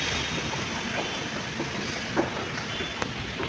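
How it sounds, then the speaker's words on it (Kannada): A Bengaluru metro train at Attiguppe station gives a steady rumble and rolling rail noise, with a few faint clicks over the hum. "ಇದು ಬೆಂಗಳೂರು ಅತ್ತಿಗುಪ್ಪೆ ಮೆಟ್ರೋ"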